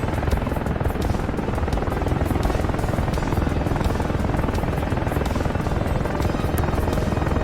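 AH-64A Apache helicopter flying in DCS, a dense continuous rotor thrum and turbine roar at steady, loud level with rapid blade chop throughout.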